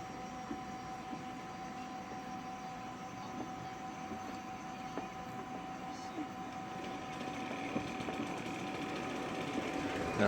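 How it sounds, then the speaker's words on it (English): A vacuum pump compressor runs steadily during air conditioning service on a 2001 Mercury Sable, a continuous mechanical drone with a constant whine that grows slightly louder toward the end. "I'll shut the compressor off."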